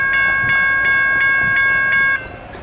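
A Norfolk Southern freight train passes southbound at Abingdon, Virginia, led by SD70-type and AC44C6M locomotives, with loud, close horn blasts sounding in a repeated pattern over the rumble before the horn cuts off and the rumble continues.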